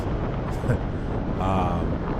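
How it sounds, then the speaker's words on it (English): Strong gusting crosswind buffets a sport bike rider on the highway in roughly 40 mph side gusts, a loud continuous roar of wind noise across the mic with swelling surges, steady throughout. "As you can hear, this is not no normal wind."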